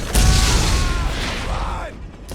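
A grenade goes off in Borderlands with a loud, close boom and a low rumble that fades over about two seconds. Game noises and voices sound faintly underneath.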